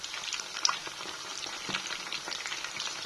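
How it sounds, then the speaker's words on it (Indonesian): Frozen chicken pieces frying in hot oil, a steady close crackling sizzle with small pops and no talk. "aku mau goreng ayam"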